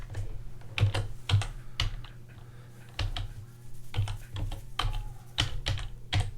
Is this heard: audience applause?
no